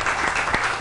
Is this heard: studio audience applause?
yes